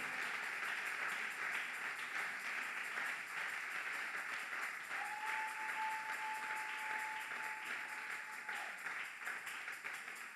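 A church congregation applauds steadily, a dense, even patter of many hands clapping that continues throughout, with a faint sustained tone partway through.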